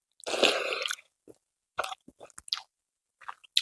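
Crispy kalamsaga pakoda being chewed right at the mouth. A long loud crunchy bite comes first, followed by several shorter crackling chews with silent gaps between them, and nothing else is heard.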